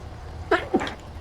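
Two short, sharp sneeze-like bursts about a quarter second apart, fairly close, over a low background hum.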